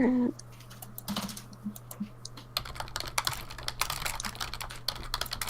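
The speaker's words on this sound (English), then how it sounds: "Ominous typing is ominous." Rapid typing on a computer keyboard, close clicking keystrokes in uneven flurries that grow busier partway through, under a low steady hum.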